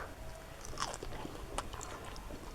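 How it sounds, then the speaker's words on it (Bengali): Someone bites into a crispy fried onion fritter and chews, with a couple of crisp crunches over a soft, muffled background, close and fairly faint, with no talking. "সত্যি খুব মজাদার আমি খাচ্ছি"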